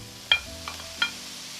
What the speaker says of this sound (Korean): 팬에 잘라놓은 소고기를 볶아주겠어요